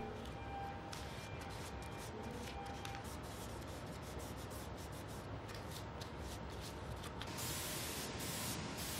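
Steady hissing spray as a craftsman spray-coats a piano frame, continuous and fairly loud, with a brief intensified burst near the end; no voices.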